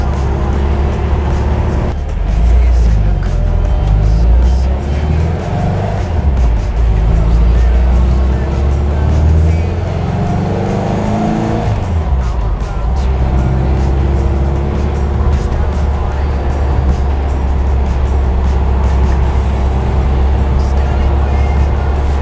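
A vintage Volkswagen Speed Bus drives along in third gear with a steady, loud engine drone and road rumble, a shift-like dip near the middle, and a voice talking over it.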